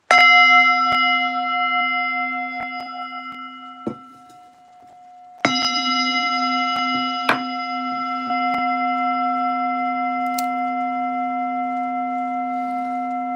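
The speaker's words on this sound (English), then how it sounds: "I'm gonna start the gong first one, and then we're gonna do 3 ohms." A meditation gong is struck before chanting, giving a long, steady ringing tone that fades, then a second strike that rings on and sustains to the end, clear and resonant, with no talking.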